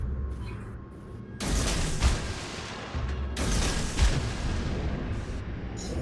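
Naval gunfire in World of Warships: heavy, booming broadside blasts roll out in two big bursts, each with a long rumbling tail, over steady background engine and sea noise.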